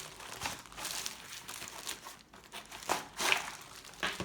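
Plastic wrapping crinkles and rustles as it is pulled off a Dell KB216 keyboard, irregular bursts of crumpling close by, fairly quiet with short pauses.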